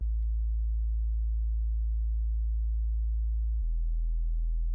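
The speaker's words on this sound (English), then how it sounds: "for the second layer, I'm using this triangle bass, also Polymax. Comes in later, right here." A Polymax synth triangle bass layer, filtered so it is nearly a pure sine wave, holds one smooth low steady tone, then drops to a lower sustained note near the end.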